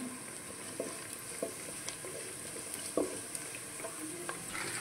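Curry leaves dropped into hot oil in a pan, fried along with capsicum for a meal maker Maggi dish, give a steady low sizzle with scattered clicks and stirring taps.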